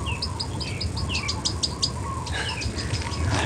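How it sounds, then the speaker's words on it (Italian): A Mauritius olive white-eye chirps in outdoor forest, a series of quick high tweets repeating in bursts over a constant background of insect buzz, with a second cluster of calls near the end. "e alla fine sentiamo anche il cinguettio dell'occhialino olivaceo di Mauritius"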